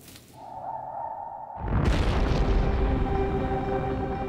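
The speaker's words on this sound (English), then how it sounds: "Volcanoes become more active" A volcanic eruption: a low whoosh swells, then a sudden deep boom opens into a loud, sustained, broadband roaring rumble that fills the rest of the clip.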